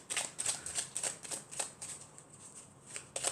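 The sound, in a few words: shuffling and drawing an oracle card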